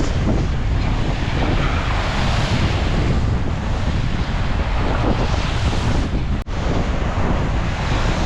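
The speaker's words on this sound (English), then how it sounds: "the waves are obviously directly on shore here. It's absolutely fierce." Waves crash directly onto a lake shore at Ohrid in a fierce wind, a loud continuous roar of surf and wind buffeting the microphone with no break, close and overwhelming.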